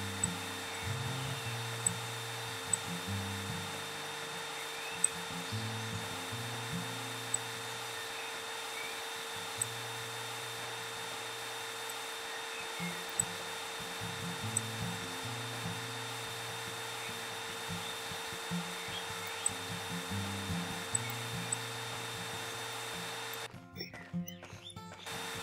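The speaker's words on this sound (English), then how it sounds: "We got the vacuum and clean it all up now." A vacuum cleaner in the video game Garage Flipper sucks up dust with a faint, steady electric whir that runs almost unbroken, with small clicks scattered through it.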